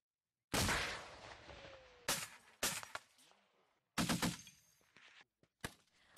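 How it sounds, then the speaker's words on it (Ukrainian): Military training fire from grenade launchers and large-caliber machine guns outdoors: several loud bursts and sharp reports with silent gaps, echoing away between shots. "Просто зараз практикуються у стрільбі з застосуванням гранатометів і крупнокаліберних кулеметів."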